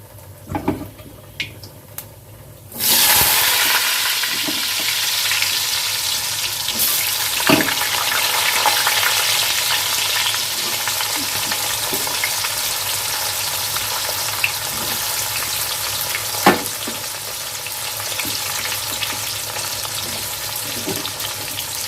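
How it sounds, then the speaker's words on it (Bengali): Potatoes drop into hot oil in a pan and fry with a sudden loud sizzle that continues steadily, with occasional scraping clicks of stirring throughout. "এবার আমি এর মধ্যে আলুটা দিয়ে দেবো"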